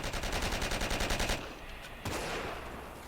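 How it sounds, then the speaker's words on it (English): An anti-aircraft gun fires in Forgotten Hope 2 on the Tarawa map: a loud, rapid, even burst of close shots, then a short pause and one more sharp report. "there's an AA gun also firing as well"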